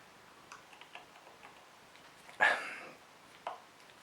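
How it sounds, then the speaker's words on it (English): A tiny hammer taps a screwdriver on a stuck screw during a BMW Bing CV carburetor rebuild: light, evenly spaced close ticks, then two sharper, louder knocks. "So tapping the screwdriver again when you're turning it, tiny hammer, not too much pressure"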